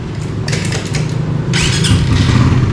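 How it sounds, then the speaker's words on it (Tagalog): A 2023 Suzuki Raider Fi 150 motorcycle engine starting, a close loud rumble that catches and settles into a steady idle, with brief squeaky bursts over the running engine. "Yun, unang andar ng ating Raider."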